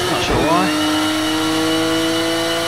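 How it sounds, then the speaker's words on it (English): A steady engine and intake drone fills the cabin of a race car in Project Cars 2, with sustained tonal harmonics after a brief rising burst at the start. It stays loud and continuous throughout. "Not a fan of the vacuum in the cabin."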